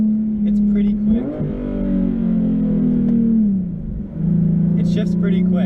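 A Nissan 370Z with an automatic transmission accelerates with a loud, close engine drone that climbs, holds, then drops briefly as the gearbox shifts quickly before pulling again.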